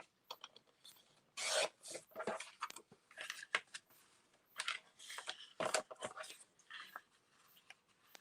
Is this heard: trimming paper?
yes